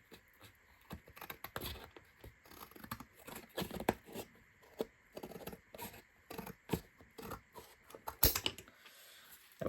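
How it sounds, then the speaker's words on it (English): Scissors cutting straight across collage paper for a junk journal, a close series of quiet irregular snips and paper rustles. "Now, this part up here, I'm going to cut straight across."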